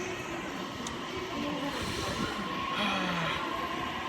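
A train in motion, a steady loud rumble with rail hum and faint squealing tones, heard from close by without any talk.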